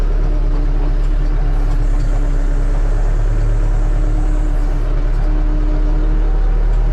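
A tractor crop sprayer works across a wheat field at 130 litres per hectare with an Agro Pilot SC10 precision application system, giving a steady, continuous engine drone with a low hum throughout and no talking.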